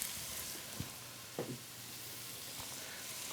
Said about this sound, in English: once you have all the butter melted, throw in all your veggies